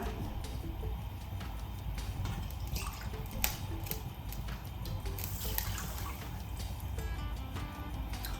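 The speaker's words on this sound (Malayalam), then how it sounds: "1 കപ്പ് വെള്ളം ഒഴിച്ചു" Water is poured into a pan for sugar syrup while making besan burfi, a steady close trickle and splash lasting throughout with no talking.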